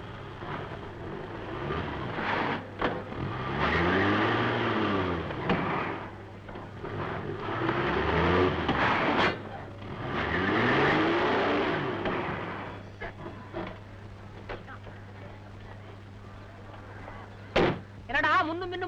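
A car engine revs in repeated surges as the vehicle rolls forward and back, rising and falling several times, with a steady low hum underneath and a sharp knock near the end.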